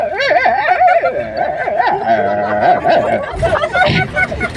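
Several dogs whine, yip and whimper close by in overlapping, rising and falling cries, with a murmur of people chattering underneath.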